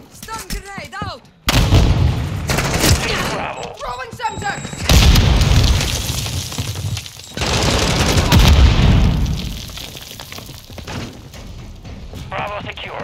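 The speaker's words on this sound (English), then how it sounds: "Stun grenade out." Loud explosions and gunfire boom through a Modern Warfare II multiplayer match, with heavy low-frequency blasts repeating across the clip, a stun grenade burst among them, while in-game voice callouts sound between the bursts.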